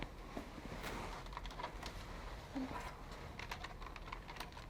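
Keyboard typing during a work-from-home login session, a scatter of light, quiet key clicks over faint room noise and background chatter.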